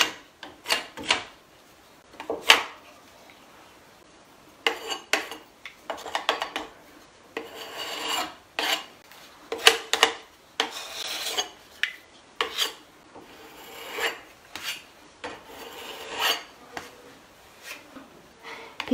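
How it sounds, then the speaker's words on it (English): A putty knife scrapes layered paint onto a surface in a boho-style finish, making repeated short rasping strokes, near and fairly loud, in irregular bursts with brief pauses and no talk. "So I'm just going to sort of scrape it on."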